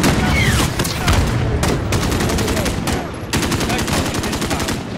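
Dense automatic gunfire in Call of Duty Modern Warfare (2019), with rapid, loud bursts nearly continuous throughout and a short break before the shooting resumes.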